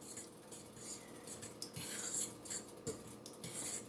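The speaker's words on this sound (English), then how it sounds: "Whisk them with this fork." A fork whisks dry ingredients in a bowl for a vegetable stock and lentil soup, giving steady soft scraping and rubbing with light metallic clinks against the bowl, close and quiet with no talking.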